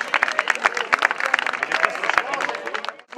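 A crowd claps for the Vendée, Pays de la Loire cycling team at a stage-race awards ceremony, the Essor breton 2022, fifth stage, with sharp individual claps and an announcer's voice carrying over the applause until it tapers off.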